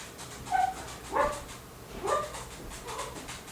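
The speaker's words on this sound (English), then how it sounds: "you can hear my dog in the background" A dog whimpers and lets out short, muffled barks in a few bursts, somewhat distant, against a quiet indoor background.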